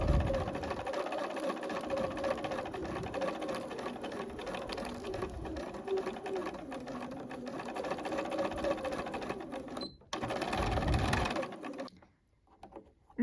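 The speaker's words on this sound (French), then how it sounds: "On coud d'abord donc les épaules." A home sewing machine runs in long steady bursts while stitching the shoulder seams of a blouse top 1 cm from the edge, its close motor hum broken by a brief pause near ten seconds before stopping at the end.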